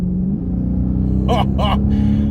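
A Chrysler 300 with a 6.4-litre Hemi V8 gives a loud, steady low engine rumble while driving, close up, with a voice speaking briefly over it.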